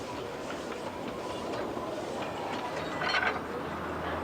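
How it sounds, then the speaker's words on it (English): The Puffing Billy steam tourist train, about 90 years old, runs on a narrow gauge line between Belgrave and Emerald Lake Park, rolling with steady rumble and clatter, slightly louder near the end. "the famous 90-year-old tourist train, Puffing Billy, runs the glorious old narrow gauge line between Belgrave and Emerald Lake Park"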